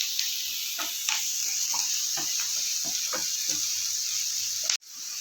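Prawns fry in a pan for a spicy prawn thokku, giving a steady, close sizzle with scattered crackles and stirring clinks, and one brief cut near the end.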